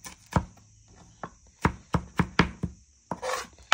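A knife chops dalle chili peppers on a cutting board with about a dozen crisp, close knocks in quick irregular bursts, with no talking.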